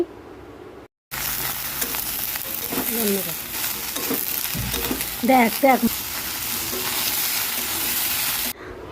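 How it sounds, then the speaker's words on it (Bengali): Ridge gourd frying with potatoes in a pan sends up a loud, steady close sizzle that starts abruptly after a short silence and carries on throughout, with a person speaking briefly over it. "এবারে আমি ঝিঙেগুলো দিয়ে দিয়েছি, ঝিঙে দিয়ে তো অনেক সময় ধরে ভাজা করেছি"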